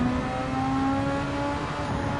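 SF23 Super Formula race car engine in Gran Turismo 7 at Autopolis International, holding a steady high-pitched whine at speed, loud and close with no talk.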